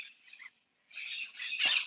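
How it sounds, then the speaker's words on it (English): Birds call outside in short, high chirping bursts, a quick trio of calls broken by a brief pause, then a denser flurry of squeaky chirps close by with no voices. "Yeah, the birds are here, guys."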